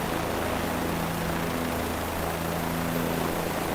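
A Bell 407 helicopter on a New York tour, flying at a steady pace: a constant loud rotor and engine roar from inside the cabin, with a faint hum running steadily underneath.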